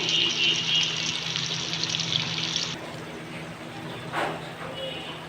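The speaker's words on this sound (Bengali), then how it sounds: "দেখুন আমার চিকেনটা কি সুন্দর ভাজা হচ্ছে।" Chicken frying in oil makes a steady hiss and sizzle that fills the first half, then drops to a softer, quieter bubbling.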